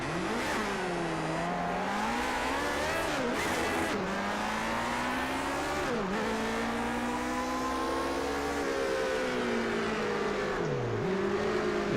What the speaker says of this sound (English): In the rain, in an old vintage Formula 1 car, round Spa.